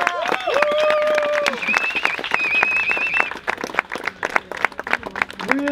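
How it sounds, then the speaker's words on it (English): A crowd at a Danish street workout championship claps for the competitors, the scattered applause mixed with whistles, cheers and nearby chatter. "So huge applause for them."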